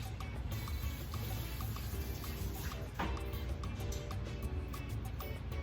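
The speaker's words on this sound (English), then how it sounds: "Let me rinse my hands off for 1 second" Hands being rinsed under a running kitchen tap, a steady close trickle and splash of water with scattered drips and small clatters, no talking.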